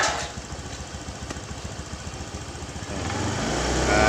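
A motorcycle engine is revved during a test of its charging regulator, with a steady mid-pitched running note that swells louder toward the end, with no talking.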